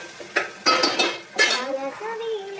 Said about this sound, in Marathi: खेकडे त्याच्यात टाकते.